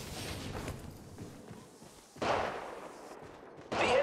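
Enemy gunfire in the mobile battle royale game Apex Legends Mobile during a ranked match, heard as loud, sharp bursts of shots that hit suddenly around the middle and again near the end over steady game ambience.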